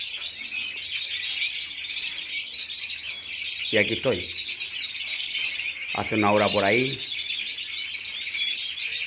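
Birds chirp steadily on a Sunday morning before eight while cages are cleaned, a constant high twittering with someone talking close by over it.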